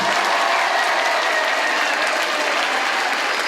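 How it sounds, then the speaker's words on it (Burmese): Steady, loud applause from a crowd greets the headmaster at a 2008 school fun fair, an even wash of clapping that never lets up. "ဆရာကြီးကို လက်ခုပ်တီးပေးကြပါအားလုံး"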